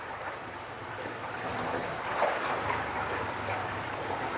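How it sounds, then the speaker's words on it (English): Below deck aboard an HH50 carbon fiber catamaran under sail, water rushes and swishes steadily against the hull, a soft continuous wash with slight swells and no pounding or talk. "All you hear is water."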